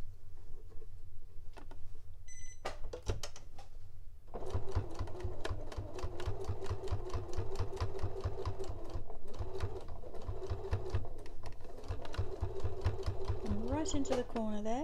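Sewing machine stitching a Christmas cathedral window quilt block, a steady fast rhythmic whirr of needle strokes running close and loud after a few brief starts, with a voice talking over it.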